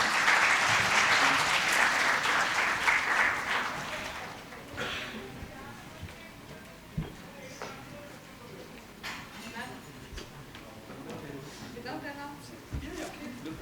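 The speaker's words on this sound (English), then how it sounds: "if we can just have a louder round of applause for them" Conference audience applause, a loud burst of many hands clapping that fades after a few seconds into scattered claps and room murmur.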